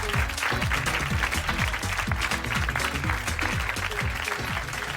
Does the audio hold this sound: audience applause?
yes